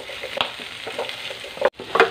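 Potatoes and carrots brown in a pan, a soft crackling sizzle broken by scraping stirs and a few clanks of the utensil against the pan, close and steady.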